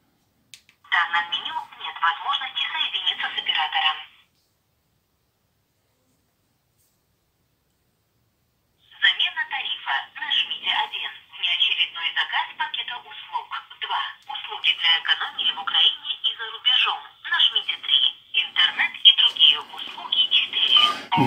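Sony Ericsson K750i mobile phone ringing loudly on a test call, a polyphonic ringtone that plays briefly, stops for several seconds, then resumes and carries on steadily at close range.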